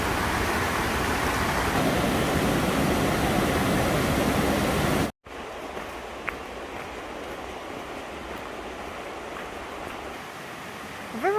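Creek water rushes under a trail footbridge in the Great Smoky Mountains, a loud, dense wash that cuts off abruptly and returns as a softer, steady flow with a few faint clicks.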